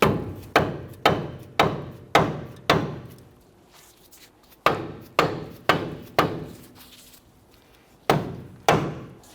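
A hammer taps a Nissan Frontier front wheel hub to separate it from the steering knuckle, in quick bursts of blows, pausing between groups, close and fairly loud with sharp ringing impacts.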